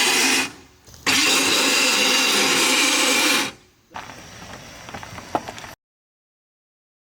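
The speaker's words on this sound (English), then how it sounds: "from the sound of it turning over, it's a small block Chevy" A small block Chevy engine cranks and turns over in a loud, steady whirring burst lasting a few seconds, then drops to a quieter rough run with faint clatter before cutting off abruptly.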